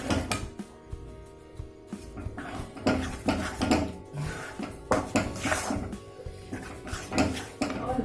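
Modak filling of milk and dry fruit stirred in a pan over a medium-low gas flame, with repeated scraping and clinking of a spoon against metal in an uneven rhythm, close and fairly loud throughout.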